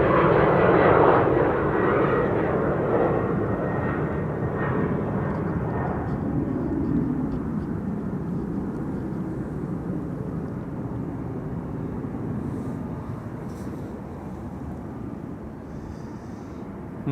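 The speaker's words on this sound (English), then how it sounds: "Embraer 190 in the meantime, via Cheetah's Lane. Rotating nicely before our eyes." An Embraer 190 jet rotates on takeoff at Amsterdam Schiphol, a loud, broad engine roar that is strongest at first and then slowly fades as the aircraft climbs away, heard from a distance and without voices.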